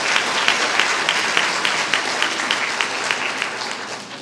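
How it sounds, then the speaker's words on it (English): Applause fills a historic art theater at a storytelling event, with many hands clapping in a thick, sustained roar and faint sharper claps poking through, tapering slightly toward the end. "how about a big round of applause for Shane Evans"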